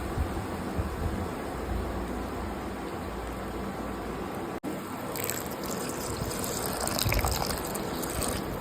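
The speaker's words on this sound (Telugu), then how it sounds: "కొంచెం వాటర్ వేద్దాం." Water is poured into a cooking pot of tomato curry, giving a steady close gushing, bubbling splash that runs on continuously with a brief break midway.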